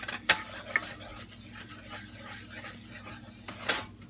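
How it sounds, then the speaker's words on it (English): A whisk stirring milk into a blonde roux in a pan: continuous soft scraping and swishing, punctuated by a few sharp metallic clinks of the whisk against the pan. "We're going to use a whisk."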